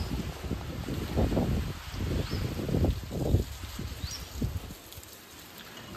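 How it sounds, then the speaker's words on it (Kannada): Light rain falls under cloudy, windy skies, heard as soft irregular patter and pops close to the microphone with wind noise in the background. "ಮಳೆ ಬರ್ತಾ ಇದೆ ಲೈಟಾಗಿ."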